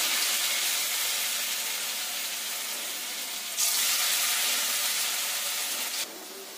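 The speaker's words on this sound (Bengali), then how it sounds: "এবার মেখে রাখা আলুগুলোকে এই তেলের মধ্যে পকোড়ার আকারে দিয়ে দেব।" Potato pakoras dropped into hot oil in a wok give a steady, loud, broad hiss of deep frying that swells suddenly partway through, then eases near the end, with no talk.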